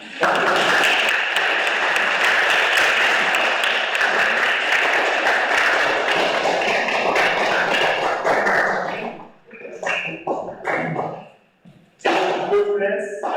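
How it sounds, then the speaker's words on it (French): An audience applauding after a thank-you at a teenagers' theatre troupe show, dense clapping filling the room for about nine seconds before thinning into scattered claps, with a voice speaking during the quieter moments. "vous pouvez vous applaudir."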